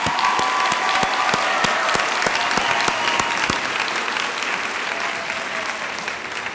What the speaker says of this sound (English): Let's recognize them with a round of applause as well.